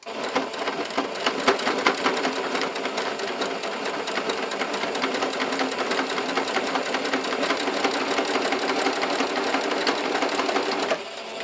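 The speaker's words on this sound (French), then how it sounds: "je vais tourner mon ouvrage et je vais essayer de recoudre exactement là où je viens de coudre" Domestic sewing machine stitching patchwork fabric for a cathedral window wall hanging, running steadily and close for about eleven seconds with a fast even mechanical whir, then stopping near the end.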